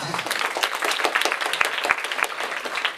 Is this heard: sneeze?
no